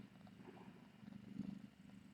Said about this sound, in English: Someone's purring over there.